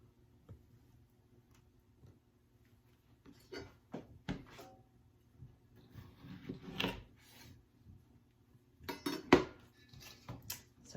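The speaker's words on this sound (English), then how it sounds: "I'm gonna cut up my pear now in thin slices" A knife slices a pear into thin slices on a cutting board, giving sparse, irregular clicks and taps that grow busier toward the end, close and fairly quiet, with faint kitchen clatter.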